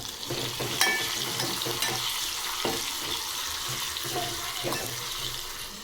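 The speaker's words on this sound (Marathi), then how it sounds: "आता हे सर्व मसाले आपण दोन मिनटं परतून घेऊ" Garlic, curry leaves, tomato and spices are sautéed in a pan while preparing dal batti, giving a steady close sizzle and frying hiss broken by scraping stir strokes and occasional louder clatters of the spoon.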